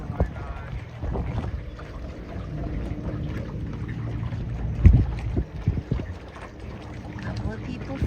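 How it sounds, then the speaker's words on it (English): A boat sails through a quiet off-season harbor: a steady low rumble of hull and water, broken by occasional thumps and splashy bursts, runs under wind buffeting the microphone and bits of nearby conversation. "Sailing in the harbor all by ourselves"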